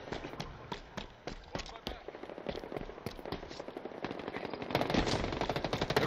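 A plasma rifle fires in rapid bursts during Halo Infinite multiplayer combat, a quick rattling stream of shots mixed with other gunfire and game effects, fairly faint overall and building louder toward the end.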